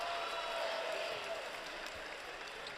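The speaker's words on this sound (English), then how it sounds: "you can hear the crowds wanting to get into it" A college basketball crowd at a Stony Brook vs Albany game in 2017 fills the arena with a steady roar and scattered cheers, heard at a distance as an even wash of sound.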